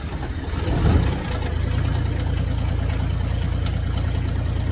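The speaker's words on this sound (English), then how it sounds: "Alright, machine started up" A Caterpillar 302.5 mini excavator engine cranks and catches with a brief surge, then settles into a steady, loud diesel idle with no talk over it.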